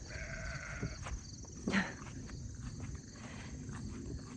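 Separated sheep bleat for each other over a noisy outdoor background, with one louder call standing out and fainter bleats around it.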